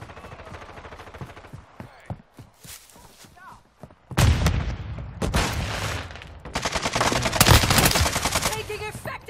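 Video game gunfire, sparse shots at first, then heavy, loud sustained automatic bursts that crowd together, with voices talking amid the shooting.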